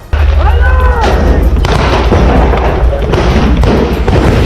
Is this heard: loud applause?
no